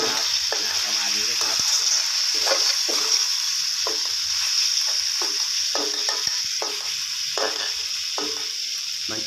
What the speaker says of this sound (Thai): ใส่กุ้งลงไปผัดเลยนะครับ